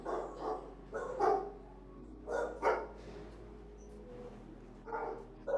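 Dogs barking in a fully occupied animal shelter building, several sharp barks in irregular bursts, somewhat distant and echoing over a low steady hum.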